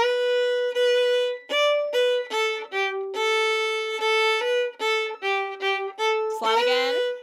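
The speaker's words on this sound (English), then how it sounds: "So we start back here and we slide up." A solo fiddle plays a folk tune with a quick slide ornament, bowing a run of clear, separate notes that ends in a scratchy, sliding flourish.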